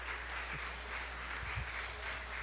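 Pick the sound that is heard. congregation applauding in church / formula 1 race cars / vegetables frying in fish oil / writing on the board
congregation applauding in church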